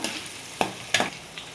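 Ivy gourd frying in oil, a soft low sizzle broken by two or three quick scraping stirs.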